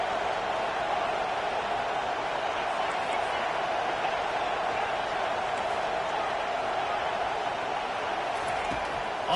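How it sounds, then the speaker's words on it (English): A football stadium crowd roars continuously to help the home defense, a steady dense wall of cheering and noise with a commentator talking over it. "Listen to this crowd just shaking the girders of this place trying to help their defense."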